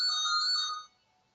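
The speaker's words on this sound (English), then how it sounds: "there's a phone ringing here, and I actually don't know how to turn it off" A phone ringtone plays as a steady electronic tone for under a second, then cuts off into near silence.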